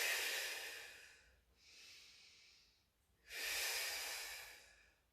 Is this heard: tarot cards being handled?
no